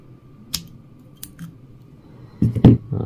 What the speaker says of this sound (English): what I need to do is cut this without nipping my thread